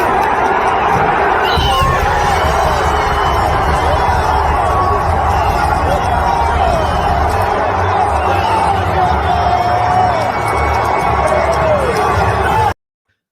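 A baseball crowd at Wrigley Field, around ten thousand fans at quarter capacity, roars steadily with cheers and a dense babble of voices after a double play.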